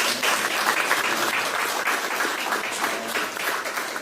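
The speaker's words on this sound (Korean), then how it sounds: "이럴 때 박수 한번 쳐주시면" An audience at a Democratic Party supreme council meeting held on site in Ganghwa County, Incheon, breaks into loud, sustained applause, a dense close wash of many hands clapping for the full stretch.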